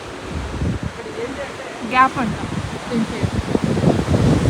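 Wind and surging ocean waves at The Gap near Albany, Australia, form a steady broad roar with rising swells, while a person speaks briefly over it.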